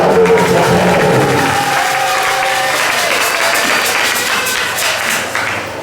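A church congregation breaks into dense, sustained applause, loud and close, the clapping holding steady for several seconds before thinning slightly near the end, with faint voices mixed in.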